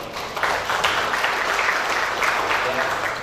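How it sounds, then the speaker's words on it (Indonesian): A room full of people at a police press conference in Jambi on land crimes claps steadily and fairly loudly, the applause building quickly and holding to the end. "Tepuk tangan untuk Jambi."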